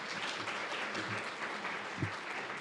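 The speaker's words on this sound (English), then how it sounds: "We'll give him a round of applause." A conference audience gives a round of applause, a dense, even patter of many hands heard at a moderate distance for the whole stretch, with one slightly louder thump near the end.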